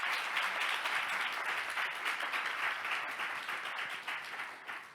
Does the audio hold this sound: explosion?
no